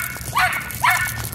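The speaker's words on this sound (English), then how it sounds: "You just want to bark at a dog chewing a stick." Two sharp barks from a nearby dog, close and loud, spaced about half a second apart over quiet background.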